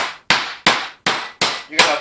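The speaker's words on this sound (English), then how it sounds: "pound that chicken, alright? You're going to bang it down" A meat mallet pounds chicken breast through wax paper on a kitchen counter, six sharp, loud, evenly spaced thwacks, each ringing briefly before the next blow.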